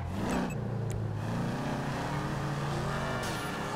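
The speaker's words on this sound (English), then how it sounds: "This is a nice Mustang, though." A Ford Mustang engine in GTA Online hums and revs steadily, its pitch shifting slightly as it accelerates, loud and close with no talking.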